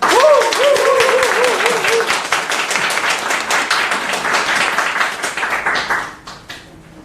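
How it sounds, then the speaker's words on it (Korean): An audience at a talk gives a steady round of applause for a speaker, loud and continuous, with a voice heard briefly over the start before the clapping fades out near the end. "큰 박수 부탁드리겠습니다"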